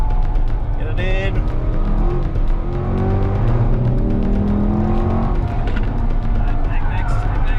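Race car on a circuit braking hard and powering back onto the throttle, a loud continuous engine roar with shifting pitch under steady in-car talk coaching braking and acceleration.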